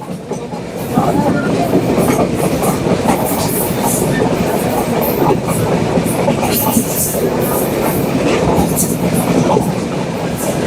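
The Chilahati Express rumbles steadily along the rails from inside a carriage, a continuous roar with faint rhythmic clatter, running beside a lake and wetland on an overcast day.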